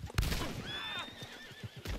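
Horse in the video game Red Dead Redemption 2 gives a clear whinnying neigh, followed by a few soft clip-clop hoof steps, fairly close with no talk.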